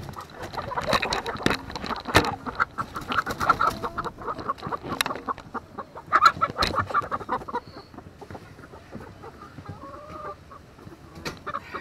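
Several chickens cluck and squawk in irregular bursts, some close and some farther off, with a few sharp louder calls among them.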